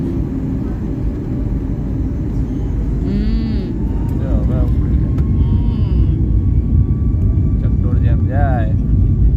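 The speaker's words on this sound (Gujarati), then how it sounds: "એ હવે વિમાન મળી અને હવે સ્પીડ પકડી છે બરોબરની." A passenger airplane speeds up along the runway for takeoff, with a steady, loud engine rumble throughout and people talking over it.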